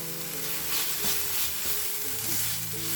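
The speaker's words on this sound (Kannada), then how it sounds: "ಶುಂಠಿ ಬೆಳ್ಳುಳ್ಳಿ ಪೇಸ್ಟ್ ಹಾಕಿ ಅದರ ಹಸಿ ವಾಸನೆ ಹೋಗೋ ತನಕ ನಾವು ಫ್ರೈ ಮಾಡ್ಕೋಬೇಕು" Ginger garlic paste fries in a pan, producing a dense, steady sizzle that stays loud and close throughout, with faint stirring movements underneath.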